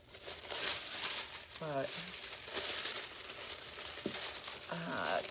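Thin craft foil being handled and pressed onto adhesive, giving a close, steady crinkling rustle, while a person talks briefly.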